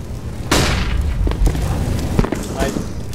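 A grenade bursts with a loud boom during a CS:GO match, followed by scattered thuds and gunfire while players talk over the action.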